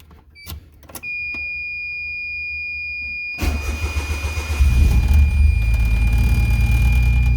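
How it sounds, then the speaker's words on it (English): A 1991 Geo Metro with a straight pipe and no catalytic converter cranks over after a door chime and clicks, then catches and settles into a loud, rough idle close by. "Oh, let's fire the car up."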